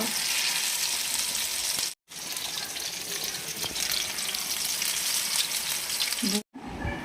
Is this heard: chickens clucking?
no